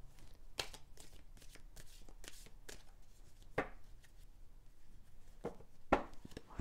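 Cards being shuffled for a weekly card reading, heard as a series of quick, soft riffling bursts at an uneven rhythm, close and fairly quiet, with no speech.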